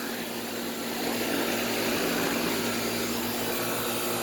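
A Goodman air conditioner runs with a loud, steady whooshing fan roar and an underlying mechanical hum, swelling slightly after the first second and then holding constant, close by and with no one speaking.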